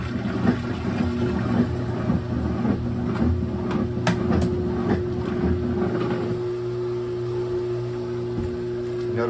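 A GE top-load washer's drain pump runs with a steady low hum and faint rattling clicks, continuous and fairly close throughout.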